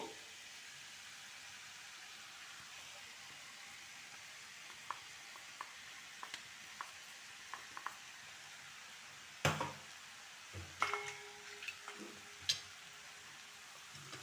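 Sweet potato curry with masala powder being stirred in a pan, a soft steady sizzle with scattered spoon clicks and scrapes against the pan, growing busier toward the end.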